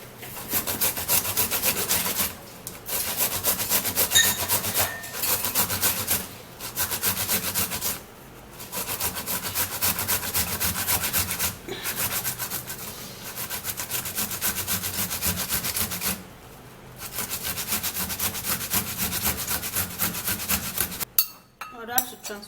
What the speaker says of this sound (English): I'll equally be grating the tomato.